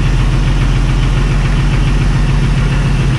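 Jeep Wrangler TJ engine idling close by, a steady low rumble with a slightly uneven, knocking pulse throughout, loud and continuous with no voices.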